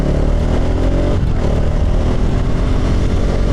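Car engine and aftermarket exhaust on an RS, a loud close continuous rumble as the driver lightly presses the accelerator, steady with slight swells.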